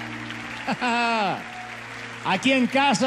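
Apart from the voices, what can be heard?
audience applause in a church service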